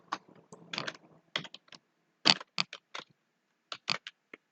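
Keys clatter on a computer keyboard as names are typed in short bursts, close and fairly quiet, with brief pauses between clusters of taps.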